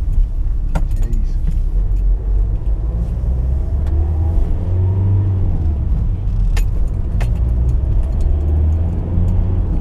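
Steady low engine drone and road rumble inside a Jaguar X-Type 2.0 diesel saloon on the move, with faint clicks and rattles over the continuous cabin noise.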